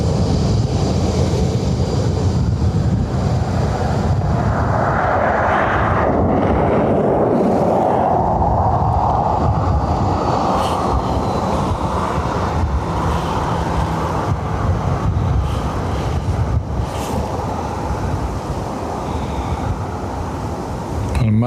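Ryanair airliner arriving at Dublin airport, a loud sustained jet engine roar that swells and shifts in pitch as it passes, mixed with background road traffic and faint voices.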